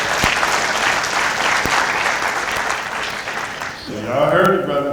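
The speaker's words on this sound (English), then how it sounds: "Let's give Imam Hamid another round of applause." A convention audience applauds with dense, sustained clapping for several seconds, then fades as a voice begins speaking over the tail end.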